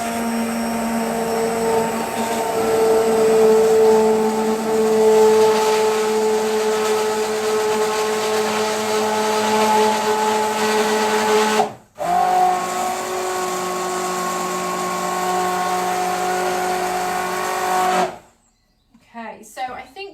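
A blender purees spiced carrot soup in an angled pan, a loud steady whir running about twelve seconds, cutting out briefly, then resuming until it stops near the end.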